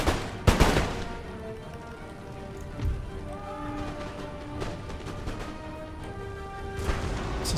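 Musket volley fire in Empire Total War: a sharp burst of gunfire near the start, then a continuous crackle of scattered shots and battle noise over several seconds, with no talk.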